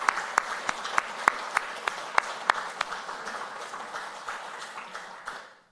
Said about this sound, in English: let's give Maria a round of applause